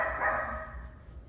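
One dog barks at a steady mid pitch, a single drawn-out bark or yelp heard indoors at moderate level with no one speaking.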